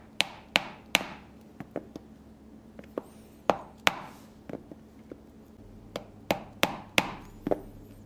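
Holes are punched through leather for a bifold wallet's card slots with a series of sharp, woody mallet strikes, around twenty hits in an uneven rhythm, close and crisp with quiet gaps.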